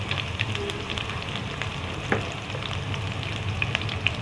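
Mango pieces dropped into hot spiced oil in a pan sizzle loudly and steadily, with a few sharp crackles and spatters over the continuous frying hiss.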